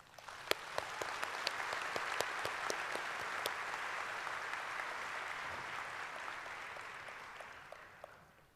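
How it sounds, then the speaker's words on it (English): Commencement audience applauding faculty honorees at a spring university graduation ceremony, a broad sustained round of clapping with sharp individual claps standing out, swelling then fading away. "Please now join me in acknowledging them with your applause"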